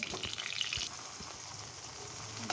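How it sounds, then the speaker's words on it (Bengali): Pointed gourd pieces drop into hot oil, giving a brief burst of crackling at the start before settling into a steady, quiet sizzle close by. "তার ভেতরে পটলগুলো দিয়ে দিচ্ছি"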